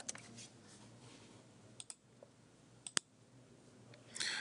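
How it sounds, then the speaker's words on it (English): Typing on a computer keyboard while entering a name into survey software: a few sparse, quiet key clicks spread across a faint room background. "what I'm going to do here is type in a style name"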